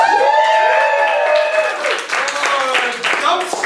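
A comedy show audience votes by applause, a crowd clapping with cheering and shouting voices mixed in, loud and continuous.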